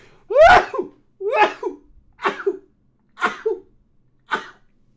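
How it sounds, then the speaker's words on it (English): A series of five sharp sneezes, the first loudest, each short burst separated by a brief pause and fading slightly toward the end. "I'm going to sneeze."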